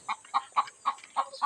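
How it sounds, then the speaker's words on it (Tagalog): Hens cluck inside a backyard chicken coop where eggs are collected, about six short, evenly spaced clucks in a steady rhythm, fairly close and clear with no talking. "pumuputak pa yung isa"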